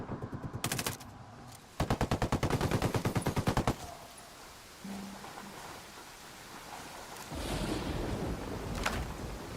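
Automatic machine gun fire in the video game Ghost Recon Wildlands: a short loud burst, then a longer rapid burst of about two seconds, followed by quieter wind-like ambience and distant noise.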